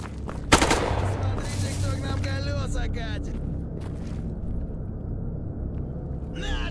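Rapid automatic gunfire in the STALKER GAMMA shooter game, a loud sharp burst early on followed by continuous dense firing and rumbling action, with someone talking over it.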